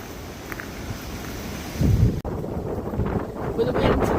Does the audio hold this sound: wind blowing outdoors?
yes